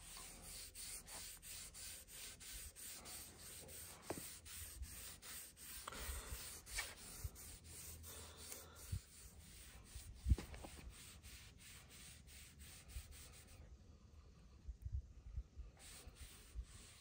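Stain is rubbed onto a wooden flagpole with repeated brushing and wiping strokes, a soft rhythmic scratchy rasp close by, pausing briefly before resuming.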